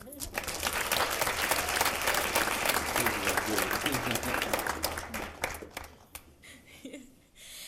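Applause from a youth event audience for its speakers, thick sustained clapping that thins and fades toward the end, with some voices mixed in as it dies away.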